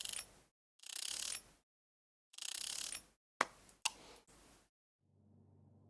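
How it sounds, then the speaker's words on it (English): Screws being unscrewed in the video game Electrician Simulator: several bursts of dry mechanical ratcheting and whirring, each a second or less, separated by silences, with two sharp clicks and a low hum closing out. "let's get the screws out"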